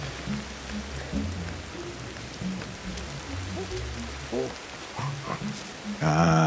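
Steady rain falls across the forest in the game Ancestors, a dense continuous hiss with scattered drips and small creature sounds, while someone talks over it throughout.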